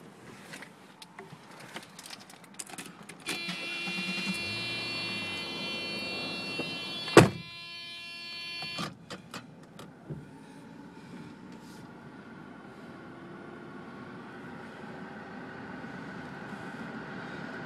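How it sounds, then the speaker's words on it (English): A Mercedes 300 SEL's air conditioner fires up inside the car with a buzzing, tonal whine and a sharp click, then settles into a steady, faint hum. "Air conditioner is on, so you can kind of hear that firing up"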